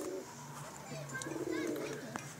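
Domestic pigeons kept by a pigeon fancier coo softly in low, rolling calls, with people talking nearby throughout.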